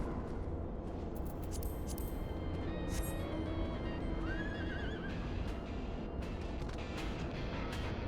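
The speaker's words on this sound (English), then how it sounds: "I have a horse." A horse mount in Final Fantasy XIV gives a clear, rising whinny partway through, set against a steady, dense wash of game background noise.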